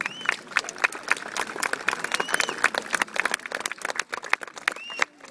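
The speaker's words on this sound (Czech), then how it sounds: "Myslím si, že si zaslouží potlesk." An outdoor audience at an army reserves festival in Děčín claps for a krav maga demonstration, with steady, moderately loud applause of many hands throughout and brief faint voices.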